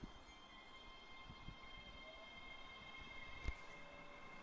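A train idles at Croy railway station, a class 385 unit calling for Glasgow Queen Street, with a low steady rumble and hum, faint and distant, and a brief clank near the end.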